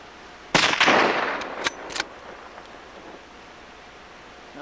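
A hunting rifle fired once during a hunt in Alaska, a loud close crack with a long rolling echo, followed by a few faint clicks and quiet outdoor air.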